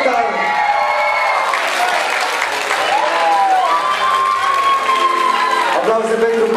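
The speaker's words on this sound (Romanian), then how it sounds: "Aplauze pentru Bono" At a Romanian dance awards ceremony, a crowd applauds and cheers for backup dancer Bono, with dense clapping, whoops and shouts under music and a voice over a PA throughout.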